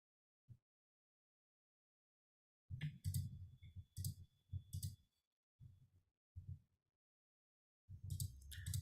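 A computer mouse clicks quietly in scattered single and grouped taps with soft low knocks, separated by stretches of near silence.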